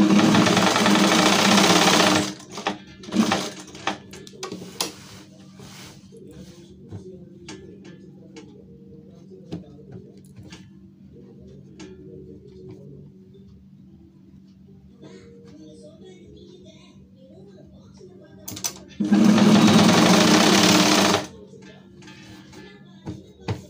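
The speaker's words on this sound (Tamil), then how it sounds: "கரெக்டாக வச்சு இப்போ ஸ்டிச் பண்ணிக்கலாம்." A sewing machine stitches the collar of a V-neck nighty in two loud, fast bursts, one at the start and one near the end, with quiet handling sounds in between.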